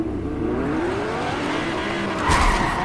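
Video game car in Fortnite, the Mark 51, driving with a steady engine drone and tire noise throughout, growing louder with a brief squeal or rev near the end; no talking.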